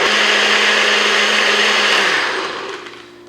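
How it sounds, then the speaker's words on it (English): A bullet blender whirs loudly and steadily as it blends a protein shake, its motor holding one pitch for about two seconds before winding down and fading out. "all I'm gonna do is use my fancy bullet blender here"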